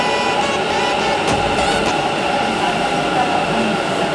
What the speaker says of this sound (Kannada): ಟ್ರೈನ್ ಸೌಂಡ್ ನೋಡ್ಬೋದು ಸೂಪರ್ ಆಗಿದೆ